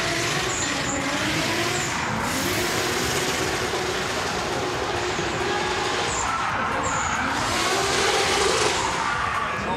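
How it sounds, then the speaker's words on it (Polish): Drift car number 30 in camo livery, running on the rev limiter at a qualifying round of the Budmat Drift Show 2013, gives a loud, continuous roar that holds steady for the whole stretch with no break. "Na odcięciu obrotów praktycznie cały przejazd."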